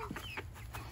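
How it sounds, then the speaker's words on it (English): Several quick chicken clucks and squawks sound close together over a steady low background hum. "We have chickens on the loose, yeah."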